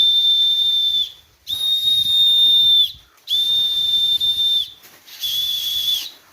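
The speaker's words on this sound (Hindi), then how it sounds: "देखिए इसमें भी सीटी बाजा सब डला है।" A toy whistle sounds in four shrill, steady blasts, each about a second long with short gaps between, close and loud, with no talking.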